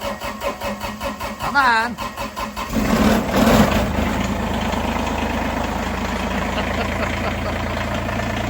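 A tractor's diesel engine cranks and catches, then settles into a steady, rumbling idle, on a snowy Canadian winter day before a snowstorm. A person speaks briefly just before it fires.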